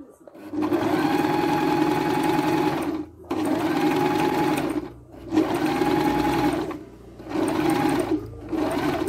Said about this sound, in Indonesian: akan menjahit yang bagian sisi panjangnya ya